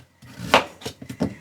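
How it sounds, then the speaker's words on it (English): A knife chops calabaza squash into small cubes on a board, giving a few separate, close, crisp thuds in an irregular rhythm after a brief silence. "So we're just going to cut these into small cubes."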